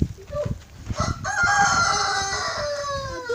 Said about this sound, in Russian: Ой, какой петух!